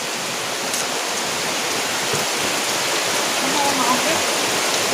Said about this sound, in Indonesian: Ini cuacanya udah turun hujan